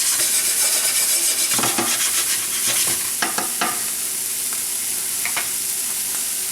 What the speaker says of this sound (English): Give that a quick saute.